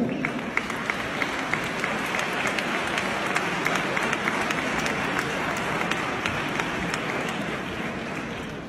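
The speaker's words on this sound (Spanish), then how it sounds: "Un aplauso para ellos." Dense, sustained audience applause fills an awards ceremony honoring a top Spanish real estate broker, steady and loud from start to finish with no clear break.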